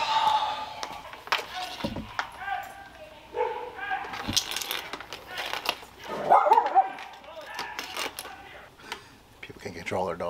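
Dogs bark and yip intermittently at a distance amid outdoor background noise, with people talking nearby, off-leash dogs in a public area.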